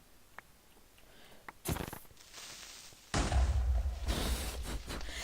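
A blocky Minecraft explosion goes off close by: a short thump, then a loud, heavy blast with a deep rumbling tail that lasts a couple of seconds before fading.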